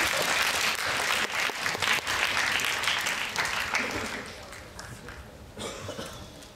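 Audience applause at a Gen-Z Talks event as a speaker is welcomed to the stage: loud, dense clapping from a crowd that gradually thins and fades over several seconds.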